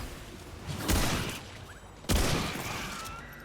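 Enemy gunfire in Remnant 2, two sharp loud bursts about a second apart, each with a booming low thump and a decaying tail.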